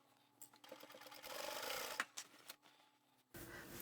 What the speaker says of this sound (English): we can take this back to the machine, and with the same 1/4 inch seam, we're going to sew all the way around